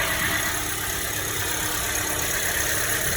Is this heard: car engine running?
yes